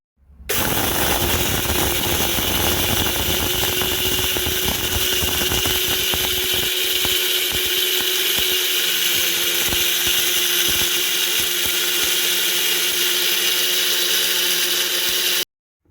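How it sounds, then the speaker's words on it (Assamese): An electric mixer grinder grinds dried mango pieces for pickle, running loud and continuous for about fifteen seconds with a rough, rattling whir that settles into a steadier drone before stopping abruptly. "এইখিনি মই মিক্সিত পিচি ল'ম"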